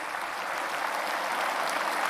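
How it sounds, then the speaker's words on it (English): A large audience at a National Space Day event gives loud, dense, sustained applause for astronaut candidates seated on the stage, steady throughout with no talk over it. "may we also please have a huge round of applause for the Gagan Yatris who are here with us on the dais."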